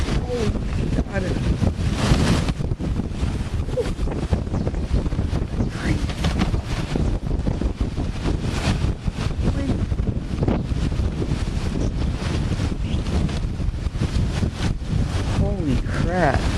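Strong thunderstorm wind gusts batter the microphone in Glasgow, a loud, continuous roar of buffeting wind and rain with surging gusts throughout, while a person speaks intermittently over the noise.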